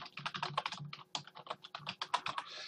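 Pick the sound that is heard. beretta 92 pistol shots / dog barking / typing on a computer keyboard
typing on a computer keyboard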